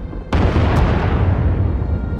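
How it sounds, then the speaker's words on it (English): A heavy bombing explosion from the Star Wars: The Old Republic video game booms in abruptly after a brief quiet moment, then rumbles on loud and dense for about two seconds with no one speaking. "Sounds like the bombing's getting closer."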